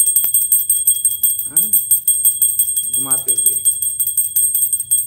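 A small hand bell rings steadily with a bright, sustained jingle throughout a home Hindu puja, sounding close by while someone talks over it.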